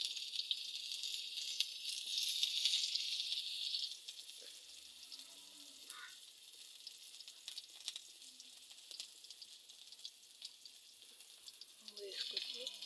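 Chopped onion frying in about two tablespoons of ghee, a soft steady sizzle in a kitchen that is fuller for the first few seconds and then settles lower, with light clinks and faint voices at the end.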